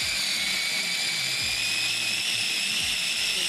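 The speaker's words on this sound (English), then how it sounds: "We'll add everything into food processor, ginger and garlic. And we're going to grind it and we're going to make a smooth paste." A food processor grinds ginger and garlic into a smooth paste, a loud, steady high-pitched whirring motor drone that runs continuously throughout with no talk.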